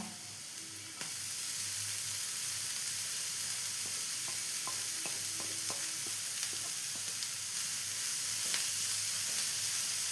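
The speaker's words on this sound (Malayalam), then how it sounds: "ഇനി ഞാൻ എടുത്ത് വെച്ച ക്യാരറ്റ് ഇട്ട് കൊടുക്കുന്നുണ്ട്" Chopped carrots hit a hot pan for Kerala carrot upperi, jumping to a loud, steady sizzle after about a second, then a long hiss with a few faint stirring clicks and no speech.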